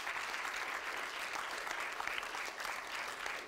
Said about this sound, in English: So a huge round of applause for our speakers.